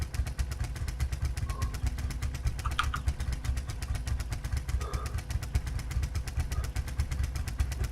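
A Russian grass-collecting farm machine runs and picks up grass, its engine chugging steadily in a fast, even pulse with faint clanks over the top.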